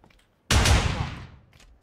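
Gunfire in the PUBG battle royale video game: one sharp, loud blast or short burst with a decaying tail lasting under a second, standing alone without talk.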